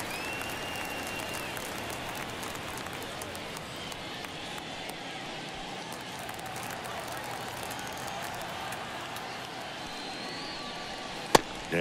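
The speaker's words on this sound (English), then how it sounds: "The crowd really making some noise." Baseball stadium crowd at a Rangers vs Dodgers game sustains a dense, steady roar of cheering and applause under commentary, with a sharp crack near the end.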